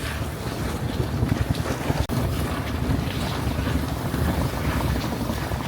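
A sailboat running fast in a strong wind on open sea between Sweden and Öland, with steady roaring wind buffeting the microphone, rushing water along the hull and a brief dropout midway.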